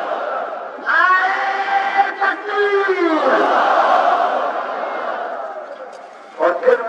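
Massed mourners at an Ashura procession in Gilgit shout slogans in unison, a loud sustained crowd roar rising after a lone amplified voice calls out, with the leader's voice returning near the end.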